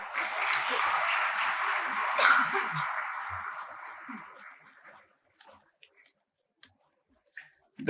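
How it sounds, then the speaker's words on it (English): Applause from an audience at a Founder's Day celebration, a broad steady clapping wash that swells briefly near the middle, then fades out over about five seconds, leaving near silence with a few faint scattered claps and small noises. "Can we have applause for that as well?"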